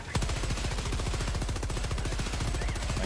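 Sustained automatic fire from a machine gun in Helldivers 2, a rapid, even rhythm of loud close shots running unbroken for about three seconds.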